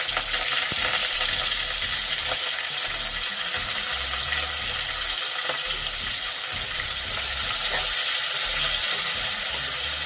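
Onions and curry leaves fry in a pan for vangi bath, giving a steady close sizzle throughout with faint stirring scrapes and no talking.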